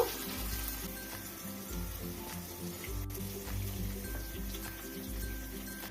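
Spices fry in a pan over medium heat for Mughlai chicken, a faint, steady sizzle with low rumbling underneath and no talking.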